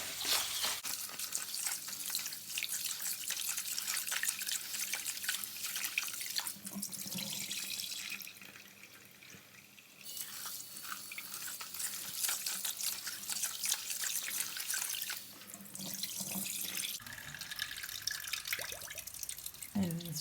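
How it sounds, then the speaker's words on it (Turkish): Food is washed under running tap water in a kitchen sink, a steady loud gushing stream with splashing that briefly eases and changes tone as the food is handled. "Biraz güzelce yıkayalım."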